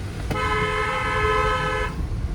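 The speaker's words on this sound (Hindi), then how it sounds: "बाइक वाले को मैंने हॉर्न क्यों दिया?" A single sustained car horn blast, honked at a motorbike in city traffic, lasting over a second, sounding over steady road and engine noise.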